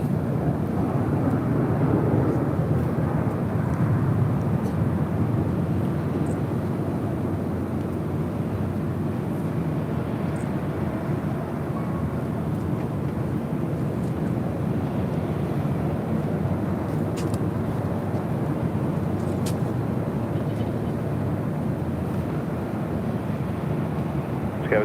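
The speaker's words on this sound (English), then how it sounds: "This is Lufthansa 456 coming in from Frankfurt on the 747-8 Intercontinental" Lufthansa Boeing 747-8 Intercontinental, inbound from Frankfurt, landing at LAX: a steady, broad jet roar holds evenly throughout, distant but continuous, with no other sounds breaking through.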